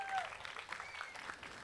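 A studio audience applauds to welcome a guest on a talk show, a soft, steady wash of clapping heard at a distance for under two seconds, with some faint tonal sounds at the start.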